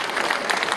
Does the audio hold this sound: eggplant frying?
no